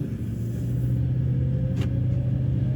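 Vehicle with a failing Ford 5R110W automatic transmission, put under throttle in reverse, giving a steady, loud low engine rumble and drone close by, with no talk.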